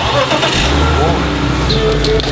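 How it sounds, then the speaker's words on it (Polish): A 2.5-litre car engine idles steadily close by, a continuous low rumble running through the whole stretch, with voices talking over it. "posłuchajmy tego silnika."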